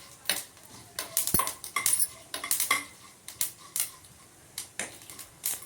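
Mustard seeds and coriander seeds roasting on a low flame for masala avalakki, with a fast run of sharp pops and clicks, many close and crisp, some clustered, others spaced apart.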